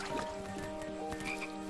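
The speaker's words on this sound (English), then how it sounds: "I was too slow to catch those frogs." Frogs croak in the King's Quest video game, a steady chorus of throaty calls over soft ambient game sound, with no talk.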